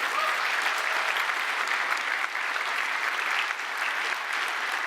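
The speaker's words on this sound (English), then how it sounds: "can we just have one more round of applause for the whole Terraform team?" Keynote audience applauding the Terraform team, an even, dense patter of many hands clapping at moderate volume for several seconds, continuous with slight dips near the end.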